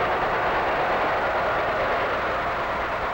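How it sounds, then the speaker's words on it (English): The Tokyo Express train rumbles past as a steady, dense roar of rail noise with no break. It stays loud and continuous throughout, with no voices. "the whistle of the Tokyo Express."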